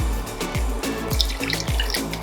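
Water poured into a pot of peanut butter stew with chicken, a steady close splashing and gurgling stream with bubbly pulses, fairly loud and alone without talk.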